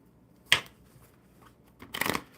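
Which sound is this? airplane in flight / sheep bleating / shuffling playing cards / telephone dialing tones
shuffling playing cards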